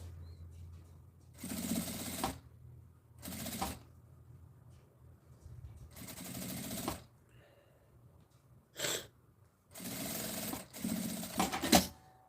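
A sewing machine stitches the first seam of a small fabric zipper bag, running in several separate bursts of steady whirring with quiet pauses between, close by and fairly loud, with a fan humming in the background.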